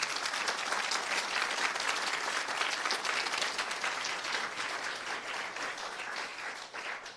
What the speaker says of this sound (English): If you please give a round of applause